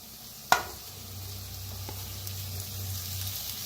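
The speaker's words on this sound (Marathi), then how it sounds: "आता बटाटू मिक्स करू ह्याच्यात।" Potatoes are stirred into a spiced mixture frying in a pan for kada vada, opening with a sharp clank of a spoon against metal, then a quiet scraping stir over a soft sizzle.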